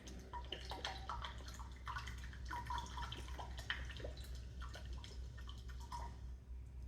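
Rice vinegar is poured into a measuring cup in a home kitchen while a double batch of chicken freezer meals is prepared, giving a faint, steady liquid trickle with small drips, no voices.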